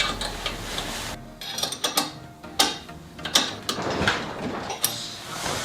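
Wrench snugging a stabilizer link nut on a Suzuki Every DA64V van, a run of close, dry metallic clicks and ratcheting ticks in uneven bursts, with no talking.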